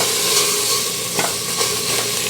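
Chicken breasts sear in smoking-hot oil, giving a steady close sizzle with a few brief crackling pops and no voices.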